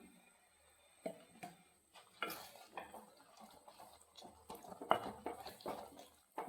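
Banana halwa cooked with ghee is stirred in a pan, with close, irregular scraping and clinking of a spoon against the pan and soft sizzling, fairly quiet, with no talk.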